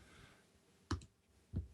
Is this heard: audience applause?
no